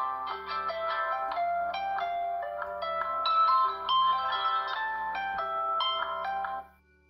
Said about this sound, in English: we can ring to the lost device with this cool feature